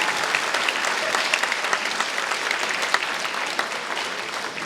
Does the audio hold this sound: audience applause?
yes